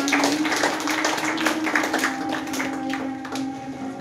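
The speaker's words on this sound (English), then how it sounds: "can we give Him a clap of praise?" A church congregation claps in praise during a worship service, a dense, steady patter of many hands filling the room at even loudness, with a sustained tone running underneath.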